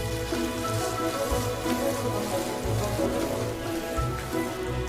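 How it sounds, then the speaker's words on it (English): Green and red peppers with shredded onion and potato sizzle and crackle steadily in a hot wok as they are stir-fried with light soy sauce and oyster sauce, a dense continuous hiss up close with no talking. "Stir fry evenly until fragrant."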